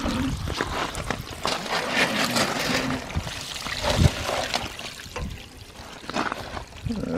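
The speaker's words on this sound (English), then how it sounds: "I'm just going to turn it the other way around now and try and wash it out, see what comes out of the bottom." Water from a hose washes through an old radiator from a Zetor 4911 tractor that has sat for over ten years, pouring and trickling steadily with splashes and a brief louder gush midway.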